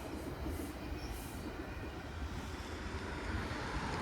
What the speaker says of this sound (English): For all you train fans out there, rail enthusiasts.